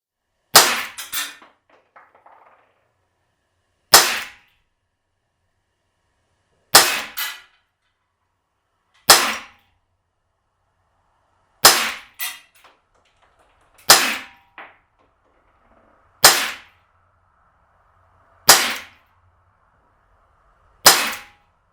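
An Umarex S&W M&P 9 M2.0 blowback CO2 BB pistol fires about ten sharp, loud single shots, evenly spaced every two to three seconds, with quiet gaps and faint clinks between them.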